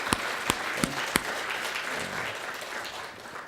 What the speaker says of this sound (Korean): 우리 성가대를 격려하는 마음으로 한번 박수로 축복하겠습니다.